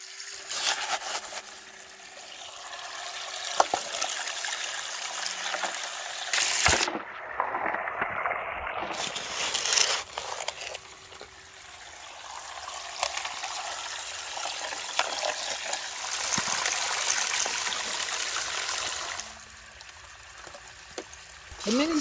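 Gold-bearing dirt is washed through a small mini sluice, with steady rushing water running throughout and a brief break partway through before the flow resumes.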